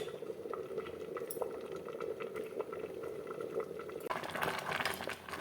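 Saag (greens) simmers covered in a pot with a steady bubbling gurgle that grows a little busier toward the end, and no one speaks.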